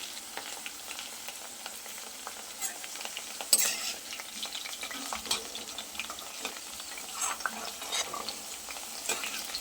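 Okra fried in oil in a kadai and stirred steadily, making a continuous crackling sizzle broken by scraping and clinking stirs, close and fairly quiet, with no voices.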